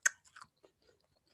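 Goron tula fruit, also called African chewing gum, being chewed close to the mouth: a sharp wet bite followed by a few soft, squishy chewing sounds that fade over a second or so.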